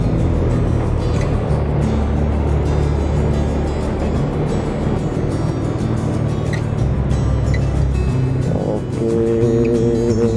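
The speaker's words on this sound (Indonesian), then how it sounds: "jalanan masih tetap padat karena masih banyak kendaraan besar yang berlalu lalang" Dense road traffic on a busy Surabaya street, with large vehicles rumbling past a motorbike. A continuous low engine drone and hum holds steady throughout, loud and close, with a brief spoken word over it.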